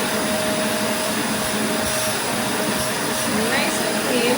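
A Catboxy portable pet grooming vacuum with a garment brush attachment runs as a steady, loud whirring drone, close and continuous, with a voice faintly present beneath it.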